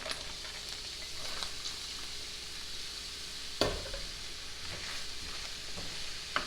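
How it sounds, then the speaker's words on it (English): Onions, carrots and other vegetables sauté over low heat in olive oil for oxtail soup with pigeon peas, giving a steady soft sizzle with a few faint clinks and stirring taps. "we're going to simmer this, saute this on kind of a 1 or a 2"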